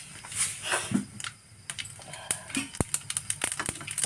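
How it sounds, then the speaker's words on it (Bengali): Whole mustard seeds hit hot oil in a pan while cooking a small-fish curry with green tomatoes, giving sharp, scattered pops and crackles that grow denser toward the end, close and moderately loud. "তেলটা গরম হয়ে গেছে, দিয়ে দেবো গোটা সর্ষে।"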